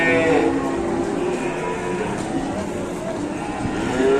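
A masked cow at a busy market gives a long, loud moo that carries through the clip, with people talking in the background.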